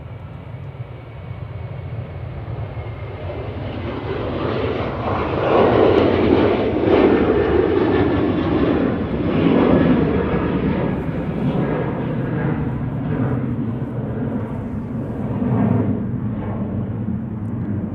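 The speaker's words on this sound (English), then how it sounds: "Ryanair 737-800 there, GRUKA, flight 559." A Ryanair Boeing 737-800 passes at Manchester Airport as a broad jet roar that swells to a peak midway and then fades slowly as the plane moves on, with no speech over it.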